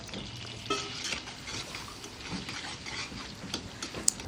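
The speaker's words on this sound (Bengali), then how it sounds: "দুটা কবিতর এখানে তেলে পেঁয়াজ দিয়ে দিলাম, তেল কড়াই দিয়ে পেঁয়াজটা একটু লাল লাল করে নেব" Onions and bay leaf frying in oil in a kadai for a pigeon curry, giving a steady soft sizzle with occasional stirring scrapes and a sharp utensil tick near the end, with no voices.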